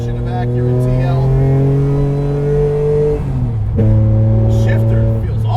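A 700 HP supercharged Acura TL engine on a racetrack holds a loud, steady drone, dips briefly as if between gears, then climbs again, with speech-like tones nearby.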